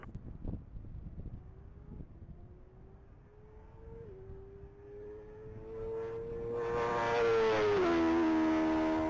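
A black 2006 Honda CBR 1000 RR motorcycle on a top-speed mile track, its engine note rising steadily from faint and distant to a loud, close, high-pitched wail at full speed over wind noise.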